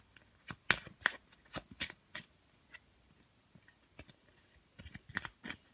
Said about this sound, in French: on va prendre une dernière carte.